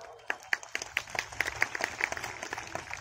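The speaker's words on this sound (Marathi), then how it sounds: "हे कार्यकर्ता म्हणून तुम्ही सगळ्यांनी टाळी वाजवली" A crowd at a public speech claps in scattered, uneven bursts, fairly faint and distant, with a speaker's voice in the background.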